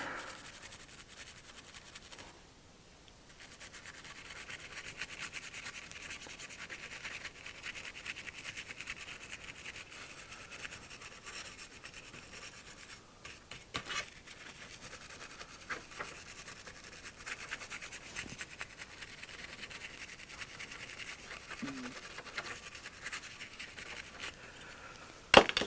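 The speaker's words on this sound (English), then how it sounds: "My alcohol and my brush. Clean the flux off." A brush dipped in alcohol scrubs flux off a circuit board from an arcade optical joystick, a soft, continuous rubbing and scratching that runs steadily throughout, fairly quiet and close, with a brief pause early on.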